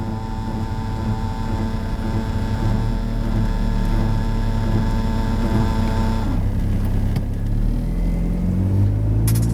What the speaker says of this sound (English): You guys can hear the pump, but it's on right now.